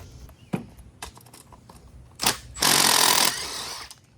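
A universal socket tool works a bolt loose in a few sharp metallic bursts, ending in a longer grinding, rattling stretch, close and fairly loud, with no talk.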